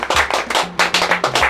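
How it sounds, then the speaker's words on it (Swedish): A few people clap at a food truck to celebrate the thousandth burger served. The claps are sparse, close and distinct, coming in uneven bursts over a low murmur. "Applåd!"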